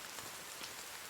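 Rain falling in the survival video game The Forest, a steady soft hiss of drops pattering on surfaces, even and continuous with no voices over it.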